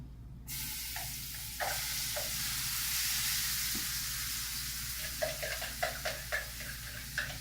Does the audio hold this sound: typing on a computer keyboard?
no